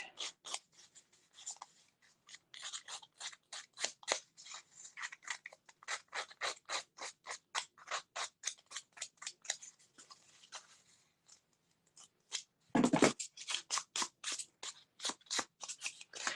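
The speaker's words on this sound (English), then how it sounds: "I'm going to take my scissors and I'm going to rough up this edge." Scissors snip repeatedly at a paper edge, roughing it up in quick, regular cuts, close and crisp, with a brief pause midway before the snipping resumes.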